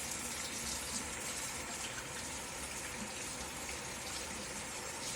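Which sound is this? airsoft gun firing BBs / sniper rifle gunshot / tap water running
tap water running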